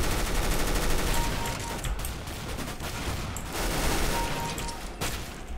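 Sustained gunfire from pistols and assault rifles in the video game CS:GO, dense overlapping bursts and rapid shots rattling continuously at close range, with a few sharper reports standing out, no talking.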